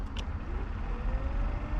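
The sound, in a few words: BMW E30 car being turned on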